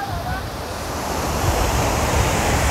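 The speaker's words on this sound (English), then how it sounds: "This is called the 100-beat waterfall." A park waterfall feature beside ponds gives off a loud, continuous rushing roar of falling water, close and steady, growing slightly fuller toward the end, with no voices.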